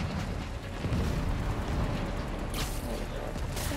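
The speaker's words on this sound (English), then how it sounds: "Miles, need to head toward the gunfire." Dense, continuous roar of gunfire and explosions in a snowy city battle from the Spider-Man: Miles Morales video game, loud and sustained throughout with a sharper burst near the end and no talk.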